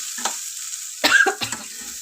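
Raw onion and curry leaves are stirred in a hot pan, giving a steady sizzle broken by a few scraping spoon strokes and a louder burst of frying.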